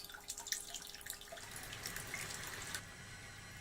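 Wort trickles and drips from a home-brew mash tun during the last of the second runnings, a soft steady splashing of liquid into a vessel, close and quiet, with no voices.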